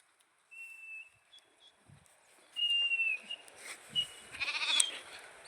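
Goats bleat in short calls on a village morning grazing walk, a few thin cries spaced apart over faint outdoor background, with a louder cluster of bleats near the end.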